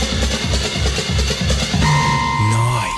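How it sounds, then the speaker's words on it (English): A techno track made without sequencers, with dense electronic texture, pulsing low beats and tonal synth lines sliding in near the end, loud and continuous. "was recorded without the use of any sequencers whatsoever"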